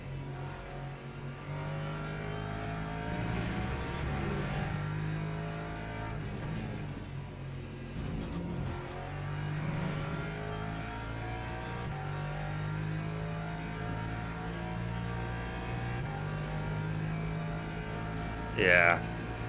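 An LMP3 race car engine in a racing video game drones and shifts steadily at moderate level beneath ongoing talk, with a brief brighter whine near the end.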